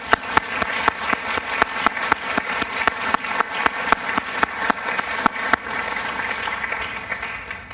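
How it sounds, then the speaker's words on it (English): An audience at a youth awards ceremony applauds steadily for several seconds, a dense field of clapping with a few sharper individual claps standing out. "Let's give each one of them a very deserving round of applause and thank them for their services."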